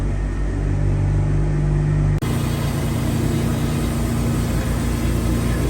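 A Woodmizer LT40 sawmill skims the top of a log, giving a loud, continuous engine-and-blade rumble. The tone shifts abruptly partway through and the sawing carries on steadily.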